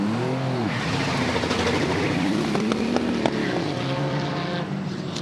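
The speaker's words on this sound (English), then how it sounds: "you'll hear this Nismo light up" A Nismo race car sits in the pit lane during a stop at the 2017 Rolex 24 at Daytona, its engine firing and revving with a rising, warbling note, sustained and fairly loud under crowd and track noise.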